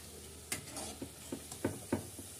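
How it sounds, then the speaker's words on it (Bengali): Lentil fritters made from biulir dal fry one at a time in hot oil, a soft continuous sizzle broken by a series of small clicks and scrapes from a spatula or spoon, close and quiet. "এই যে বড়াগুলো এক এক করে আমি ভেজে নেব ডাল দিয়ে"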